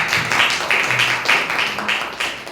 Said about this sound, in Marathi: टाळ्या वाजत त्यासाठी.